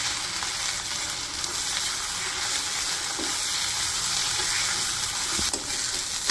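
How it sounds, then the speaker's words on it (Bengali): Freshly ground spice paste fries in a pan in a village kitchen, a loud continuous close sizzle with faint stirring and crackle, steady for the whole stretch without talk. "মশলাগুলো হালকা ভাইজে নিচ্ছি"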